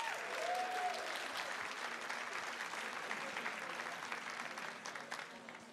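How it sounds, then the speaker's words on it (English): A crowd at a speedrunning charity marathon claps steadily for several seconds, the applause fairly distant and gradually thinning toward the end. "Give them a round of applause, everybody."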